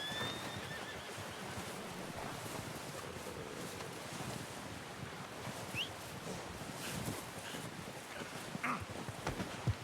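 A horse whinnies in Red Dead Redemption 2 amid steady wind and outdoor ambience, with faint hoof clopping and small rustles throughout.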